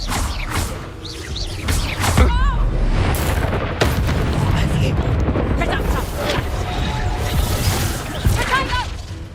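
Expulso blast spells from Hogwarts Legacy burst repeatedly as loud booming explosions with crackling debris, layered over dense game effects and shouted spell incantations.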